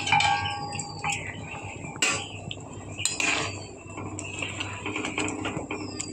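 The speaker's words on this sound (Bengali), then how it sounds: "এবার ঢাকনা দিয়ে দেব।" Metal clinks and clatter of a lid settling onto a cooking pot holding fried tangra fish, cauliflower and potato, a few sharp close knocks over a steady low kitchen hum.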